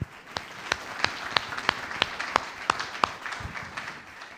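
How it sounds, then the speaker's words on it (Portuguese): Church congregation applauding, with soft, scattered claps and a few sharper regular claps standing out over a low, diffuse background. "Salva de palmas ao Senhor."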